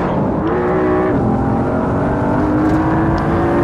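A Mercedes C63 AMG in Assetto Corsa running with the SLS engine sound, its steady, loud engine note shifting in pitch as it revs and accelerates, with no voices.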